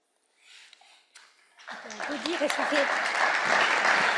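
An audience at a conference on protecting victims, defenders and professionals breaks into applause after a speech, rising from a few scattered claps to a full, sustained round as voices and light laughter mix in.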